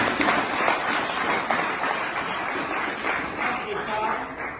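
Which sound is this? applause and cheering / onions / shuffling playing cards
applause and cheering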